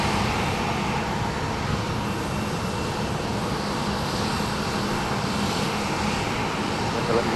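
An airliner on a flight to Birmingham, Alabama, seen at rainy Dallas Love Field, gives a steady, full-bodied engine roar that holds at a constant level throughout, with a speaking voice mixed in.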